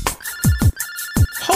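A video phone ringtone signals an incoming call with repeated electronic chirps and swooping tones over a steady high beep, loud and close, with short gaps between bursts.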